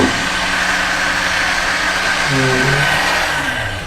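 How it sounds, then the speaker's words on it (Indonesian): A powerful kitchen blender whirs loudly and steadily from start to end, its motor pitch dipping and shifting partway through before easing off at the close. "blendernya canggih banget sih"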